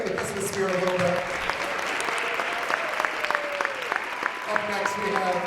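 Warm applause from a Christmas concert audience for the band, steady clapping that runs throughout with musical tones and a few voices mixed in beneath.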